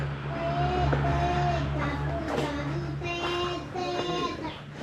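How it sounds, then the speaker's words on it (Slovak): Motorbikes pass close by in Laos, their engines droning loudly with rising and falling pitch as the whine of one engine overlaps the next. "To je strašne veľa bicyklov a motoriek."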